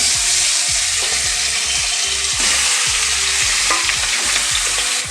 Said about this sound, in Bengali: গ্যাসের ফ্লেম জোর করে দিয়ে এগুলো আমি ভাজতে থাকবো।